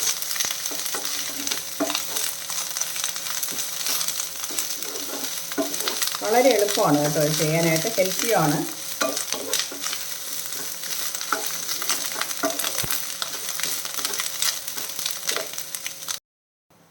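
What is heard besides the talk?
curry leaves sautéing in a pan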